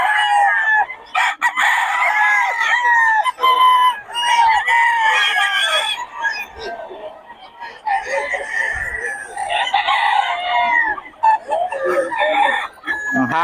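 Young stag gamecocks crow loudly and repeatedly, several calls overlapping close by with clucking mixed in and faint voices in the background.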